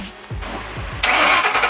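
A 2010 Shelby GT500 fitted with a Roush axle-back exhaust fires up for the first time: a brief churn of cranking, then the engine catches with a sudden loud, deep exhaust rumble, heard up close with no talking.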